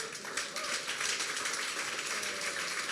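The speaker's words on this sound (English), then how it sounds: "A round of applause." An audience claps in a steady, dense patter at a business presentation on portfolio management, moderately loud and sustained throughout with no talk over it.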